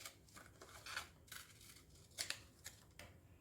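Scissors cut paper for a pop-up card, with a few close, quiet snips and crisp slicing strokes spaced irregularly.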